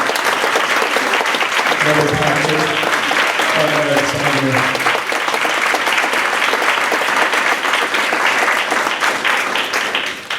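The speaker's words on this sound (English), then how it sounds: "can have another round of applause for the other music directors" An audience at a music Q&A event gives a loud, continuous round of clapping for the music directors, with a host's voice calling out over the start.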